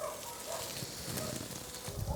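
Two steaks go onto hot charcoal over an open fire, giving a soft crackling sizzle with faint popping throughout, close and fairly quiet.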